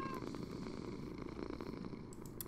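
A cat purrs in the blocky sandbox game Minecraft, a steady low rumbling purr running without break, with faint game ambience over it and no talking.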